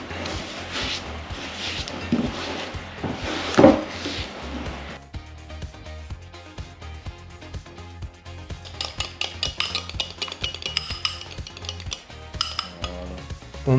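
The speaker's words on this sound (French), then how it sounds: "on vient bien mélanger notre beurre avec le sucre" Butter and sugar being mixed for cookie dough in a bowl, with a utensil scraping and clinking against the sides in steady, close strokes. The pace grows busier and more rhythmic partway through. A voice is faintly present.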